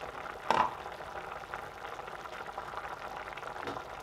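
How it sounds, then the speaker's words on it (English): Meat simmering in water in a covered pot for egusi soup, a faint, steady bubbling hiss with a brief louder clink or splash near the start. "So we just cover it to boil the meat."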